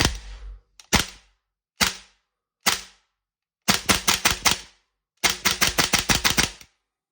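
Airsoft Toxicant MCX Spear LT rifle fired on semi-auto: a single snappy shot, two more spaced shots, then two quick rhythmic strings of about six sharp cracks each, close and loud with no talking.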